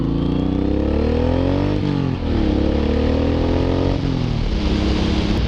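Suzuki M109R motorcycle engine revving up through first gear, pitch climbing repeatedly with brief dips between pulls, close and loud, on a road across a dam.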